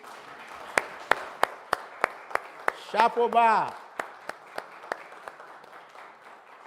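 During a Sunday church sermon, sharp claps land in a steady, even rhythm, roughly a dozen evenly spaced beats, briefly interrupted by a speaking voice before the clapping carries on more softly.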